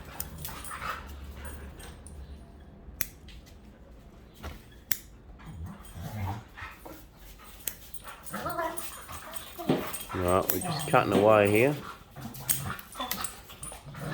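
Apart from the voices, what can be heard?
dogs playing around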